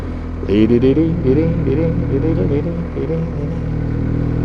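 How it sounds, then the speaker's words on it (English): A lorry descends a mountain road in the Picos and passes close by, its engine rumbling low and steady beneath a voice talking over it throughout. "I've got a lorry coming down as well"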